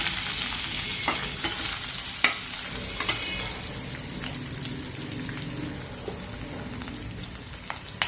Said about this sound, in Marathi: शिमला मिर्च 1 कटिंग केलेली, हे चांगलं मस्त पैकी परतून घ्या।